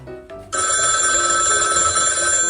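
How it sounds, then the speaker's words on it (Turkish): Telephone ringing in a children's doll doctor play scene: a loud, sustained electronic bell-like ring that starts abruptly after a brief quieter moment and holds steadily to the end, with no talk over it. "Aa telefon çaldı"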